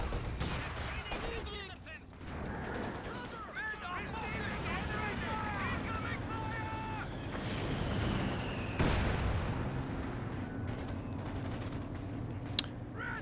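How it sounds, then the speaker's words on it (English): Katyusha rocket artillery fires in the Company of Heroes 2 strategy game, with rising, screaming rocket tones over a dense clatter of distant gunfire and battle noise while someone talks throughout. "Katusha firing"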